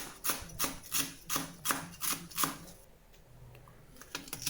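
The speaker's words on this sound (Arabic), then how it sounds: "نقطعوا الثوم، الحامض والفلفل الحار" Knife chopping garlic, lemon and hot pepper on a board for a baked sardine tray, a steady run of about eight crisp close cuts, then quieter scattered taps.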